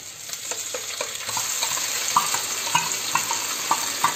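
Tomato and green chili paste goes into golden fried onions in a hot pan, a steady sizzle with rhythmic stirring scrapes at regular intervals, close and clear with no talking.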